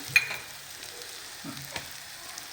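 Hadga flower vegetable gets stirred in a pan of oil over the gas flame, a soft, faint sizzle with a few light scrapes of the spoon, no voice.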